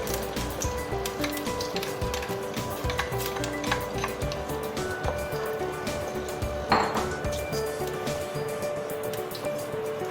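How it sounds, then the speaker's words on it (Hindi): Pureed onion sizzles in hot oil in a pan, a soft steady crackle broken by frequent clinks and scrapes of a spoon stirring against the pot, close up with no talking. "अब हमें अनियन को इतना भूनना है कि इसका कलर पिंक सा आ जाए"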